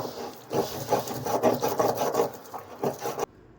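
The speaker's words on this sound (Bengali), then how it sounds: "সিমিলার ওয়েতে আমরা আদা এবং গরম মশলাটা বেটে নেব।" Ginger and garam masala being ground by hand on a traditional grinding stone, a close, loud rhythmic rasping of stone rubbing on stone in repeated strokes, ending abruptly.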